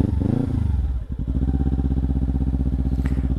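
A Kawasaki Ninja 300 motorcycle rides off road, its engine loud and near with a steady pulsing throb, a brief dip and clatter as the bike jolts over rough ground, then holding a constant drone.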